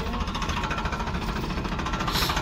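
A Blue Horse tractor's engine runs steadily during the recovery of an overturned paddy trolley, a faint, rapid, knocking mid-pitched chug with even pulsing and no talk.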